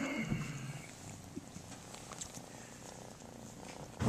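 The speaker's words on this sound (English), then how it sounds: "But he's purring." Low, steady purring from a two-year-old cat, close and quiet, a soft continuous rumble with faint background noise and no speech over it.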